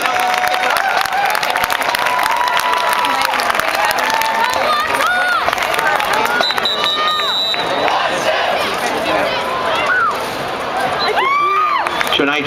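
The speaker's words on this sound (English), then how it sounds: "Please welcome with your applause the Wantagh High School Marching Band." Loud crowd applause with cheering and shouts welcoming the Wantagh High School marching band onto the field at a 2011 Newsday marching band festival, steady dense clapping throughout with whistles and voices calling out.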